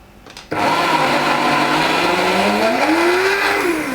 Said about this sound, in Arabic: ريتو راني نزيد نرحي